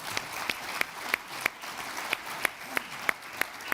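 Steady, evenly spaced claps ring out one after another at a moderate pace, with a faint background wash.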